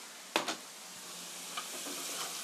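Chili powder and seasoning sizzle softly in a pan while being stir-fried for mapo tofu. A couple of quick spatula scrapes break through the faint, steady frying hiss, and no one speaks.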